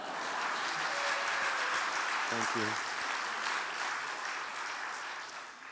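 A chapel crowd applauds its speaker with steady, fairly loud clapping that fades gradually, while a brief spoken phrase cuts through the middle.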